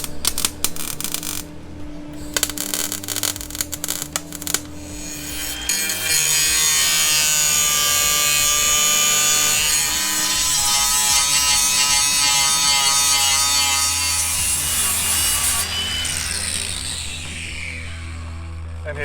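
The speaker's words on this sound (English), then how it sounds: "So we'll finish this off now with the welding and grind it smooth" A flap disc grinds a welded car body panel smooth during rust repair bodywork, starting with choppy bursts, then settling into a loud, sustained whining grind before winding down near the end.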